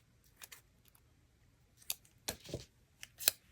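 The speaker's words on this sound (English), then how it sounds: "I cut little angles." Scissors cutting small angles into a folded paper strip, a few quiet, crisp snips spaced irregularly, close and otherwise near-silent.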